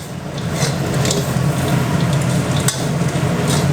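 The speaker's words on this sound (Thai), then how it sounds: "ใส่ลงไปแล้วผัดสักพักหนึ่ง" Green peppercorns stir-fried in a pan for a Thai spicy field-rat dish, a steady close sizzle and frying hiss running throughout with light stirring scrapes and no voices.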